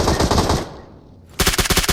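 Automatic weapon fire in PUBG: a loud rapid burst of gunshots, a brief quieter gap, then another fast, punchy volley.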